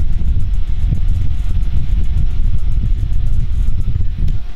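A USB rechargeable fan runs at high speed, its motor and blades giving off a loud, steady whooshing hum and low rumble that holds evenly from start to finish, with no talking.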